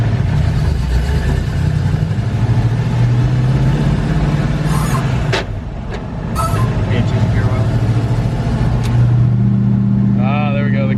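Ford F100 truck with a T56 manual transmission, a loud, close engine drone that rises and falls as it revs, with sharp clanks and speech over it.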